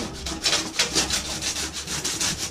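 Sandpaper is rubbed back and forth over a corroded RV exterior access panel, producing quick repeated scratchy strokes, close and steady for a couple of seconds, with no talk.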